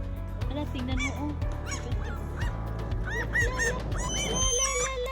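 Birds at a lake in Gothenburg, Sweden, honk repeatedly and overlap in a loud, busy chorus, with people's voices mixed in.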